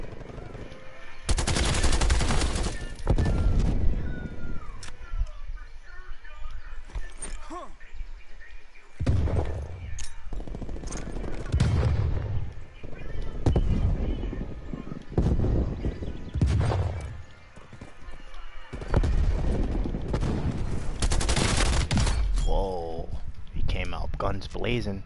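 Bursts of gunfire crack out in Call of Duty Black Ops Cold War, loud and repeated across the stretch, with automatic rattles and single shots mixed among game effects and someone speaking at times.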